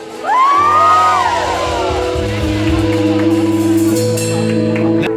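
Party crowd whooping and shouting for a band member, a loud burst of cheers and yells that rises quickly, with a sustained musical drone and more scattered shouts carrying on beneath.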